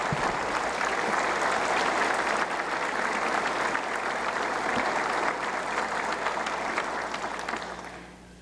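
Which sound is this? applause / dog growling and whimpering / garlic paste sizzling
applause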